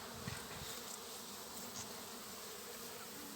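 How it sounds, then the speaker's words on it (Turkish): Honeybees at a hive in November cool weather buzz steadily as they fly and fan their wings, a dense continuous drone heard close up without voices. "Aralarda bir yavru uçurma faaliyeti bol bol."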